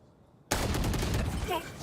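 Gunfire in a Valorant esports match erupts suddenly into dense, rapid shots that continue to the end, loud and close, with a brief voice near the end.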